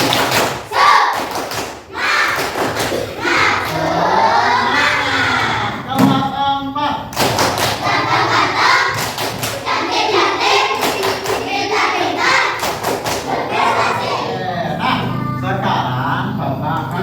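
A rhythmic group clapping chant, a tepuk semangat spirit clap, in an Indonesian teacher-training classroom session, with loud patterned claps and thumps mixed with voices chanting and talking throughout.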